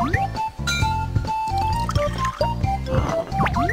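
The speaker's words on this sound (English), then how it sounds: "Mix latex and water." Cartoonish liquid pouring and filling sounds as latex and water are mixed in a children's animal puzzle video game, set against bright, steady game music with a few small clinks.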